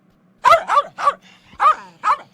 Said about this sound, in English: started barking loudly